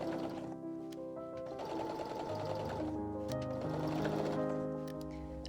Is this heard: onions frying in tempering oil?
no